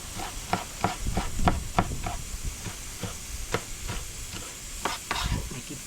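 Sweet pepper fries in a pan outdoors while being stirred, giving a steady sizzle broken by irregular scraping clicks of the spoon against the pan, close and moderately loud, with no talk.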